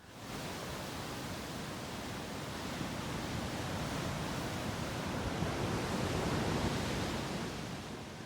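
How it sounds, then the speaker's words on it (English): Steady, broad wash of ocean surf, a continuous soft roar that swells gently without distinct breaks or voices. "for me, it has always been the sound of waves."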